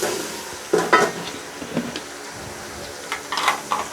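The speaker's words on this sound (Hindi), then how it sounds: "लहसुन, अदरक और सब्ज़ मिर्चों का पेस्ट जो हमने 1-1 चम्मच लिया वो डाल देंगे और इसकी हल्की सी भुनाई कर लेंगे।" A paste of garlic, ginger and green chilli fries quietly in a pan, giving a soft sizzle broken by a few scrapes and clinks of a spoon stirring.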